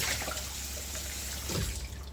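Tap water runs into a sink while dishes are being washed, a steady splashing stream that swells briefly near the end as the flow shifts, close and fairly loud.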